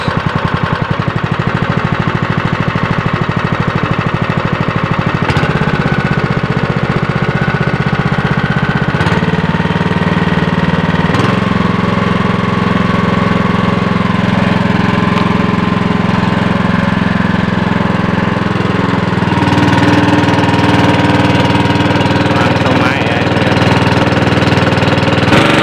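A motor-driven water pump runs steadily to fill a high water tank at a durian orchard on rocky ground, loud and close, droning continuously with a couple of shifts in pitch as the throttle changes.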